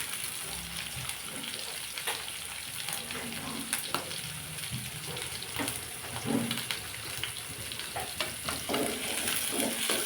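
Chopped onions and green chillies sizzle steadily in a pan on the stove, a continuous close frying hiss broken by scattered clinks and scrapes of stirring, with no talk.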